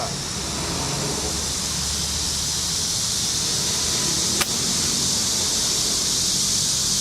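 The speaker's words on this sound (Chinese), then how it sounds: "风很大。" Steady, strong wind roars across the microphone outdoors, a broad continuous rush with one brief click partway through and no voices.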